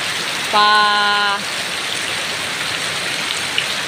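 Steady heavy rain hisses throughout, running off a corrugated metal roof, with a brief harmonic tone near the start, like a distant horn or engine whine.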